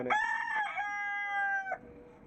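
A single drawn-out, harmonic crow rings out clearly from the chickens, red and brown hens among them, in a backyard coop, fading into quiet afterward.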